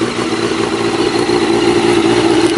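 A Honda CBR 929 motorcycle running on its original factory exhaust, a loud, close, steady engine drone that holds at a high even level throughout, without distinct rev peaks and with no talk over it.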